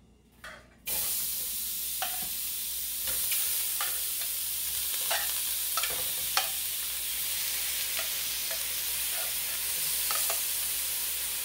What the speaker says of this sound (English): I'm going to take the shrimp and I'm going to put it in a pan